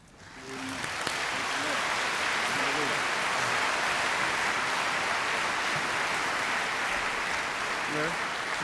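An audience applauds to welcome a speaker to the stage at an evening mission conference session. Steady, full applause swells within the first second and holds evenly throughout. A few faint voices sound underneath.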